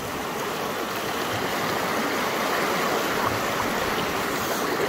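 A babbling brook flows with a steady, close rush of water and no pauses or talk.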